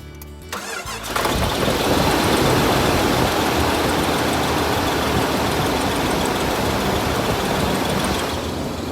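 A car engine cranks briefly, catches, and settles into a steady, loud idle that runs on evenly with no talking, with belt whine and a slight exhaust leak, after a new distributor, cap and rotor.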